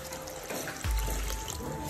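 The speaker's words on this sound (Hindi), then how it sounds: "अब इसमें डालते हैं पानी।" Water pours into a pot of chicken curry cooking with tomatoes, a sudden splashing gush that keeps running steadily after a quieter start.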